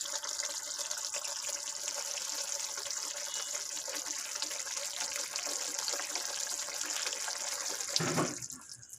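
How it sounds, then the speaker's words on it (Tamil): Brinjal gotsu boils in a pot with a continuous hissing, bubbling wash of liquid noise at moderate level and a short thump near the end. "இது நல்லா கொதிச்சிட்டு கொதிச்சிடுச்சு"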